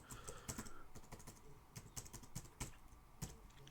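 Quiet keystrokes tap on a computer keyboard in a steady, slightly uneven run of clicks, close and soft with no speech.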